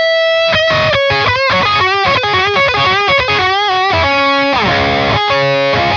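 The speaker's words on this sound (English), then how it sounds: "Now with the gain boost on." A loud, close electric guitar riff runs through an ENGL Steve Morse lunchbox amp with the gain boost on, giving thick high-gain distortion, fast picked notes and a held chord near the end.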